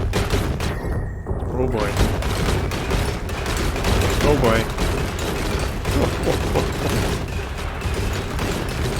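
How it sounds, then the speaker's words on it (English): A nuclear reactor melts down and explodes in the colony sim game Oxygen Not Included, with bursts of booming, crackling blasts and mechanical rattling over several seconds while a man exclaims briefly. "That's a pretty good explosion."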